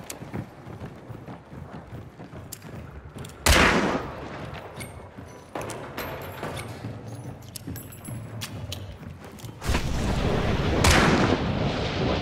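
Gunfire in a multiplayer shooter video game: a dense run of sharp shots and cracks over a constant battle din, with heavier blasts near the four- and ten-second marks.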